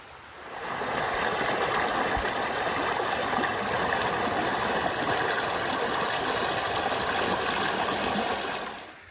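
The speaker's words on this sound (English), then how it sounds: "The creek is tranquil and calm today" A calm creek on a hiking trail flows steadily and evenly, a constant close bubbling wash of water that fades in and out at the edges.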